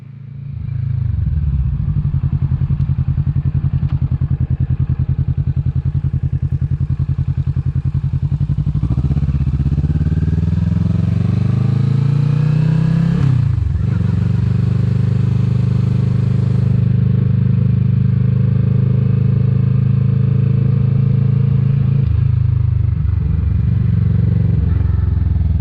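A Kawasaki Vulcan S 650 motorcycle rides through traffic on a windy day. The engine drones loudly and continuously, rising and falling in pitch through gear changes, with wind rush over it.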